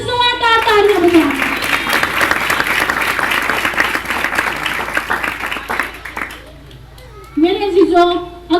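A congregation applauds strongly for the holy blood during a church sermon, steady dense clapping that lasts several seconds before fading, with a preacher's voice heard at the start and again at the end.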